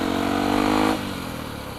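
A motorcycle rides along a city road in BSD at night, its engine loud and close, revving high before easing off to a lower, steady drone, with no talking.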